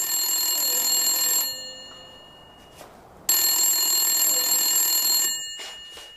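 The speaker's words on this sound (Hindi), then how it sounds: "फोन उठाओ ना, सुन नहीं रही हो?" A telephone rings in two long electronic bursts separated by a short pause, fairly loud and close, with faint background noise in the gap.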